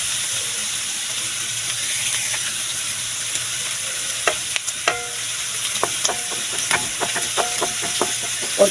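Garlic, onion and ginger sauté in pork fat, a constant soft sizzle close by, joined midway by a series of sharp clinks and scrapes from a utensil stirring against the pan, with no voices.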